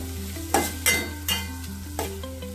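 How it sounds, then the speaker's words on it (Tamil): Onions frying in a pan for egg curry, stirred with a utensil: a steady sizzle under four or five distinct scraping strokes at irregular intervals, close and clear, with no talking. "அது கொஞ்சம் திரிவிட்டே இருங்க, சீக்கிரம் ஃப்ரை ஆகிடும்."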